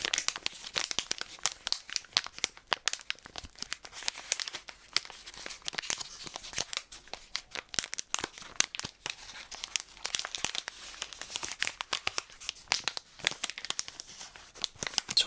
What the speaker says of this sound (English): this is the duo bar which we are going to share together, and a nice crinkly wrapper too